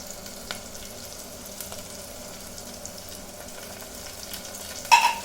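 Chicken is stirred as it fries with paste, spring onions and kasuri methi, a quiet steady sizzle under a few soft scraping strokes, ending in a louder clatter of utensil against pan.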